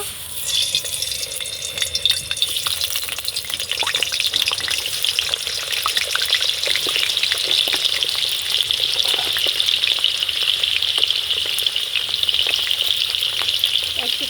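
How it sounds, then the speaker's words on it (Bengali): Potatoes dropped into hot white oil fry with a loud, steady, close sizzle and crackle that holds evenly throughout, with no talking. "তেল গরম হয়ে গেছে আলুগুলো ছেড়ে দেব"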